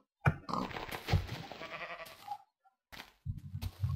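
Sheep in the video game Minecraft bleat in several short, close, wavering bursts separated by brief silences.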